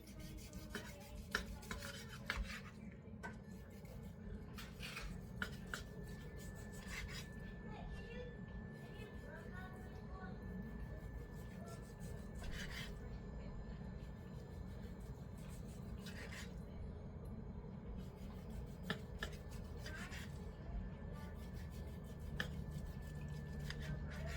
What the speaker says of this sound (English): So we're going to cut it this way to make some nice slices.